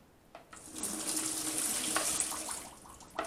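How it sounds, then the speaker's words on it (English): Excess water splashes and gurgles as it pours out of a cooking pot in a steady stream for a couple of seconds, then stops, with small clinks at the start and end. "I might take some of that water out actually."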